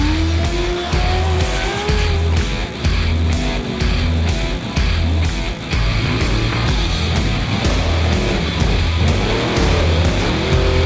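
Off-road race vehicles at the Mint 400 desert race in Nevada, engines roaring loudly and continuously with revving and tire noise, no talking.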